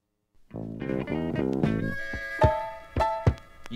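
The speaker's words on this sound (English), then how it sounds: "that is the sound of the blues" Blues music plays, with a strummed or picked guitar-like riff and sharp percussive hits that ring out, fairly loud and up close, no talk over it.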